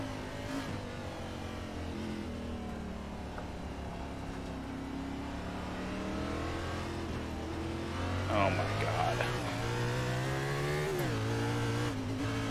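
A NASCAR stock car races at Daytona in the iRacing simulator, its engine droning steadily at high revs and rising in pitch as it accelerates, with a voice talking over the constant roar.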